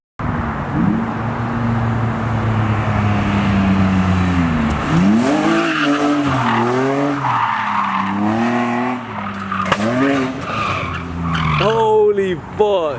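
A BMW E30 drifts on a freeway on-ramp, its tires skidding and squealing loudly under a strained, wavering engine note that rises and falls, with excited voices calling out near the end.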